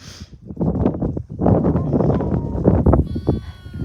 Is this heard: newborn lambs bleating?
yes